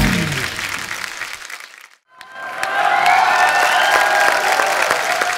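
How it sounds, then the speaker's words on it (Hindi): Applause from the studio audience of a Hindi comedy talk show, The Kapil Sharma Show, rises loud and close, briefly drops to a near pause, then swells again into sustained clapping with some crowd noise. "तो एक बार कंगना के लिए जोरदार तालियां"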